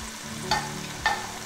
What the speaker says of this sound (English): Time to add the Napa cabbage, baby corn and noodles. Give it a good stir